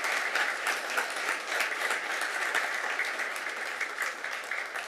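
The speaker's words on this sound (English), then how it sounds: "Can we give Mike Diaz a big round of applause?" Audience applause for an honoree at a Costa Mesa city council meeting, a moderate, steady wash of clapping in a hall that carries on evenly and tapers slightly at the end, with no voices over it.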